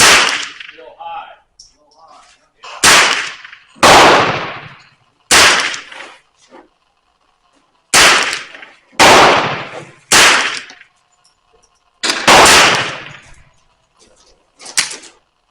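Rifle shots from a Remington Nylon 66 fitted with a replacement barrel at a shooting range, nine or so sharp, loud cracks spaced irregularly about a second apart, each with a short decaying tail and no talk between them.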